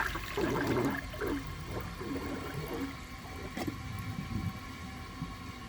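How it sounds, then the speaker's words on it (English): A 1980 Crane Radcliffe toilet flushes under a performance test, water rushing and gurgling loudly at first, then swirling and draining in uneven gulps, with no talk. "I'm going to give it another flush and see if it can pass this."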